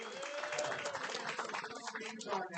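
Audience at a USC Hall of Fame banquet applauds, a dense, sustained wash of clapping in a hall, with a voice speaking over it.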